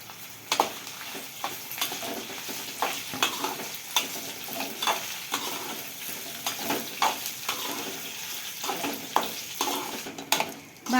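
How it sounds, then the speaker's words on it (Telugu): Cumin seeds and dried red chillies fry in hot oil for gongura pickle, with a steady soft sizzle and repeated scrapes and clinks of a spoon stirring in the pan. "జీలకర్ర కూడా వేసుకుంటున్నాం ఇప్పుడు ఎండుమిరకాయలు వేసుకుంటున్నాం"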